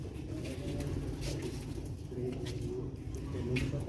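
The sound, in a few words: silver female rooftop pigeons cooing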